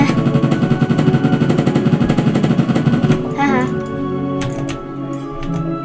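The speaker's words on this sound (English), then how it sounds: "Machine gun." Rapid machine gun fire in a Roblox zombie survival game, a dense loud burst of repeated shots lasting about three seconds over game music, then fading into scattered quieter sounds.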